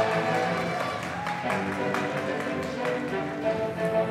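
A crowd at a MAX FC kickboxing match applauds with steady, dense clapping throughout, and a commentator's voice runs over it.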